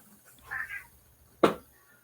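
A house cat meows twice in quick succession indoors, fairly close and soft, followed by a short sharp noise.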